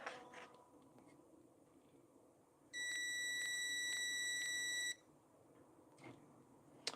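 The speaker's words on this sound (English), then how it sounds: "It might beep for a split second while it charges" A multimeter's continuity beep, a steady high electronic tone lasting about two seconds, sounds while probes test a pinball machine capacitor, with quiet handling clicks before and after.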